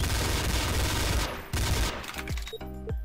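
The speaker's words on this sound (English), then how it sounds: "pressing left click, we can shoot" Rapid automatic gunfire from auto-aim shooting in a video game, loud bursts of shots with sharp cracks and trailing echoes, dense and continuous before thinning into separated shots near the end.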